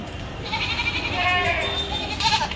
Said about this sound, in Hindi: दोस्तों, आप देख सकते हैं फुल एक्टिव बकरा है।